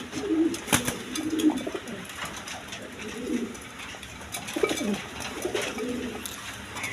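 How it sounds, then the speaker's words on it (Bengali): A pair of Modena pigeons, a breeding pair, coo in low rolling phrases that repeat every second or so, moderately close, over a constant murmur of background noise. "এক পেয়ার মডার্না কবুতর দিয়ে শুরু করতেছি"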